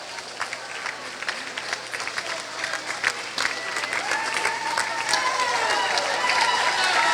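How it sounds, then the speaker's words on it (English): A crowd at a 2009 NVWG swimming event cheers and claps, growing steadily louder as a swimmer nears the wall in a 200-yard race. Sharp claps and shouts rise over a dense, reverberant indoor roar. "As the crowd's starting to get louder as he's approaching the wall"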